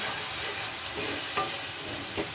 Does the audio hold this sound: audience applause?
no